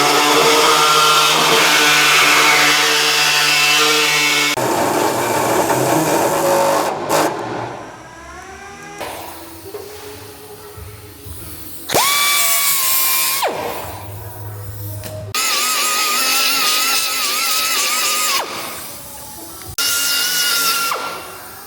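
An air hacksaw cutting out a section of body metal, including a drip drain area, on a legendary Australian car under restoration, with loud buzzing reciprocating bursts that start and stop repeatedly, shifting in pitch as the blade bites.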